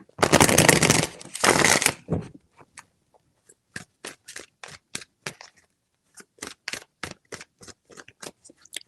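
Tarot cards are shuffled in two loud riffle bursts, then a run of soft, rapid clicks and flicks follows as the deck is cut and handled, close up in a quiet room.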